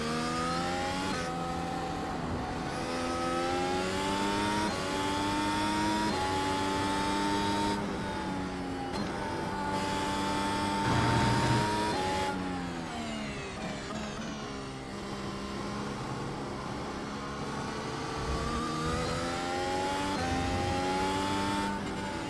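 NASCAR race car engine in a racing video game at Indianapolis, a loud, steady engine drone with rising and falling pitch as the car shifts and accelerates, running continuously with no talking.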